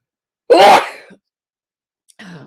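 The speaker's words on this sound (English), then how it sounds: "oh, I gotta sneeze." A single sharp, loud sneeze burst bursts out and fades within a second, followed by a short quiet gap and a faint rustle or breath.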